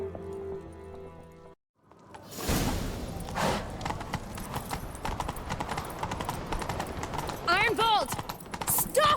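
Hooves clatter at a gallop in The Witcher 3: Wild Hunt after a brief silence, dense and driving, with a horse whinnying near the end over whooshing game sounds.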